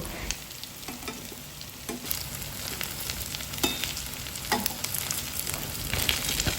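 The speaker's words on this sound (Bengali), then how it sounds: "আমি এক এক করে এরকমভাবে সবগুলো বড়া ভেজে নিচ্ছি" Fritters (bora) made for puffed-rice laddoos fry in a pan of hot oil, a dense continuous sizzle with scattered crisp pops and occasional scraping clicks of stirring, close and unaccompanied by speech.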